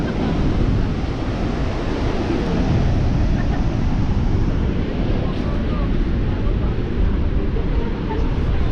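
Niagara Falls thundering up close, a dense, steady roar of falling water that fills the whole scene without pause, loud and broadband with wind buffeting the microphone.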